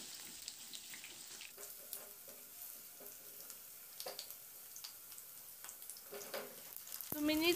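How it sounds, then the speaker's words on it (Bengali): Potatoes frying in oil in a wok while being stirred, a soft steady sizzle with faint scraping and clinks, quiet and close. "আলুগুলোকে দিয়ে দিলাম। মিনিট কয়েকের জন্য একটু নাড়াচাড়া করে প্রথমে আলুটাকে একটু ভেজে নিতে হবে।"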